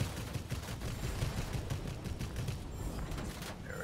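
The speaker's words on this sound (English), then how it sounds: "Should be able to take all those out with cannons pretty much." Aircraft cannons on a German Messerschmitt Me P.110 in World of Warplanes fire at ground targets, a dense run of rapid bursts and booms that stays loud and steady under heavy engine roar, with no talk.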